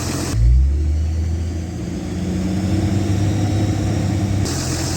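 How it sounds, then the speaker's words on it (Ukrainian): A car engine starts and rumbles, then is held at raised revs around 1,500 to 2,000 rpm to charge another car's flat battery, with a steady, loud drone throughout. "Запускаю, На цьому автомобілі обороту до півтора перед 2000 обертів"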